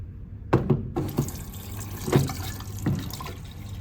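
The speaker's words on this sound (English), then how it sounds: "A water dispenser station here, and I'm just filling up my kettle" Water runs from a hotel water dispenser into a kettle, a steady close pour broken by a few soft knocks and clinks as the kettle shifts under the spout.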